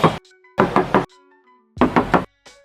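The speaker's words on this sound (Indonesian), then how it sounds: "Kita coba tes ketok untuk bodinya nih ya." Knuckle raps on the body panel of a used Toyota Agya TRD Sportivo or Suzuki Ignis GX: quick, hollow, tinny knocks in groups of two to three, close and crisp, with short silent gaps between.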